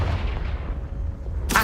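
A Confringo fire spell blast in Hogwarts Legacy, a heavy, booming rumble that rolls on for over a second before a sharp, bright burst cracks at the very end.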